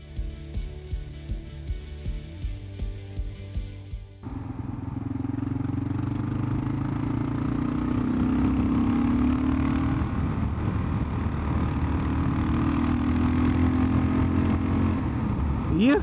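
A Kawasaki KLR 650 single-cylinder motorcycle with a new exhaust header idles with a lumpy, pulsing thump, then pulls away into a loud, steady riding drone with rising and falling engine revs, close and continuous.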